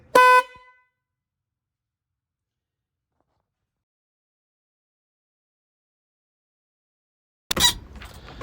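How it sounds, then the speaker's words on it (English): One short, loud car horn honk, then a long silence before a brief burst of noise at the end. "Honk it."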